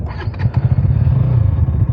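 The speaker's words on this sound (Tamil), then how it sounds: "இதுக்கு எக்ஸா சவுண்டு கேட்போம்" A KTM Duke 200 motorcycle's exhaust rumbles steadily up close, a continuous low engine idle with a few slightly sharper pulses near the start.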